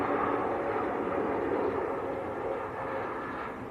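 An EasyJet Airbus A321neo touches down at Manchester Airport, giving a steady, broad engine roar that holds strong and then eases off slightly toward the end, heard from a distance with no voices.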